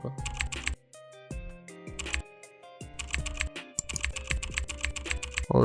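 Fingers tap quickly on a computer keyboard while entering names into an Excel spreadsheet, in bursts of close, rapid clicks separated by short pauses, alongside a tonal background sound.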